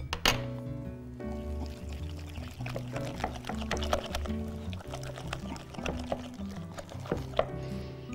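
Water poured gradually into chickpea flour while mixing pizza dough, a soft trickling pour with light clinks beneath steady background music.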